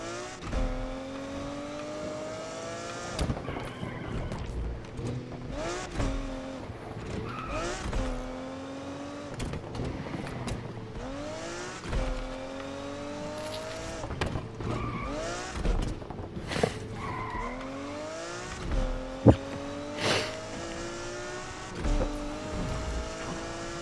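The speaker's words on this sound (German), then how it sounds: "Ich muss hier quer einmal durch die Stadt fahren." A car in the video game Need for Speed Unbound driving across the city, engine revving and climbing through gears again and again with repeated gear shifts and occasional tire noise, steady and loud throughout.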